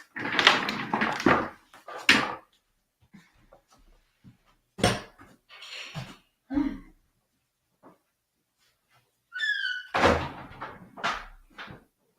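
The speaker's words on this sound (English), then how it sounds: "I need to close the door so that people don't hear me." A room door closed during a live stream, with a cluster of thuds and handling knocks, then scattered faint bumps, a brief squeak and a final loud clunk near the end, fairly close.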